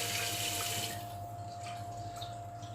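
Tap water runs steadily into a kitchen sink while vegetables are rinsed, a close, even rush that thins slightly after the first second.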